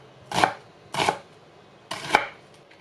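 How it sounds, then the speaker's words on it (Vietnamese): A knife chops shallots on a cutting board with three crisp, close thuds, the first two quick together and the third after a short pause, each sharp and clear in a quiet room. "Hành tím thì mình cắt lấy 10g để chút mình bằm nhuyễn."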